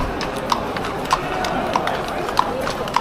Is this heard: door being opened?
no